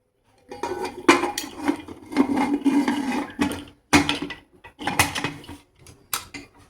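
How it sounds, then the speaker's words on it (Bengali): A cake tin is set down inside a preheated pressure cooker with its whistle and gasket removed, giving loud, close metallic clatters and clanks in irregular bursts, with a few sharper knocks. "প্রেশার কুকারের মধ্যে কেকটাকে আমি বসিয়ে দিচ্ছি"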